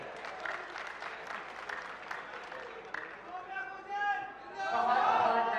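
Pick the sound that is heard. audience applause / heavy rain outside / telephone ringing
audience applause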